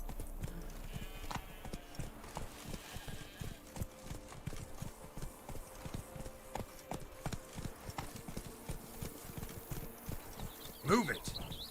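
The horse Roach trotting in The Witcher 3: Blood and Wine, with steady rhythmic hoof clip-clops on the ground throughout and game ambience underneath, ending with a brief louder sound.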